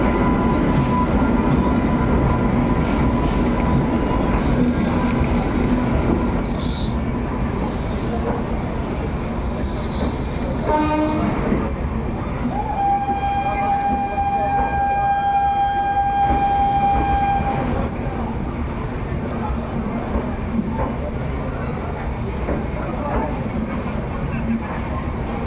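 The 12378 Padatik Express, running from New Jalpaiguri toward Sealdah, rolls with a loud, steady rumble of wheels and carriages, broken by squealing wheels and a sustained whistle-like tone midway.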